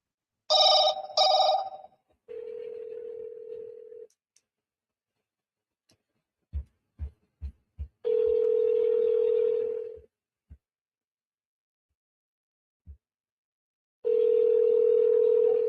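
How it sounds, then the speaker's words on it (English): Telephone call placed from a phone: a chime followed by steady ringback tones repeating with long gaps between them, while a few faint clicks and taps fall in the silences and no one speaks. "Not sure if this one's going to ring through or not."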